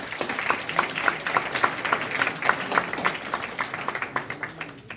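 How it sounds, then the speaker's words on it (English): A board meeting audience gives a round of applause, its separate claps distinct and fairly close, keeping an uneven rhythm that thins toward the end. "let's give a round of applause to Mr."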